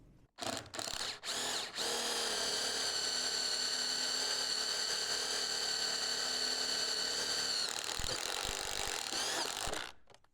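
A power drill drives screws while gable end windows and doors are installed, opening with a few short bursts and then one long, loud, steady whine that winds down near the end.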